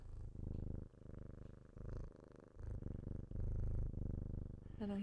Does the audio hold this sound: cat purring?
yes